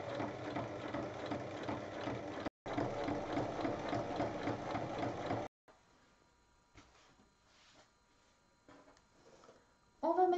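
Sewing machine stitching the lined, padded fabric of a baby sleep sack, a steady close mechanical rattle in two bursts split by a short stop, then quieter handling noise and a final burst of stitching.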